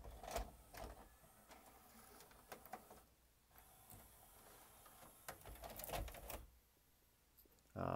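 Sylvania SV200 VCR mechanism loading a VHS tape, faint close whirring and repeated mechanical clicks and clunks from inside the deck, with brief quiet gaps between bursts of motor and gear noise.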